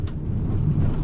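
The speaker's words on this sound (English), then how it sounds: "the car is really loud on an unpaved road" A car driving on an unpaved, dusty road, heard as a loud, steady low rumble of engine and tire noise close by, continuous for the whole short stretch with no talk.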